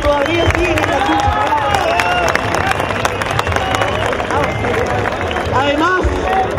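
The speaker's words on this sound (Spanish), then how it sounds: "Y este aplauso es para ellos que todavía siguen en la lucha" Applause and crowd noise at an outdoor student march, steady clapping blended with cheering and babble from a large crowd, with a voice rising over it.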